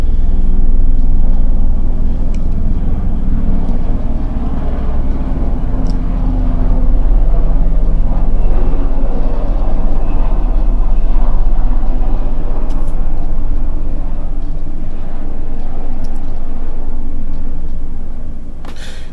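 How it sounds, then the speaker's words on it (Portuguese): A steady low rumble of a helicopter passing overhead, loud and continuous throughout, with no voices present. "O helicóptero de novo. Esse helicóptero tá me perseguindo"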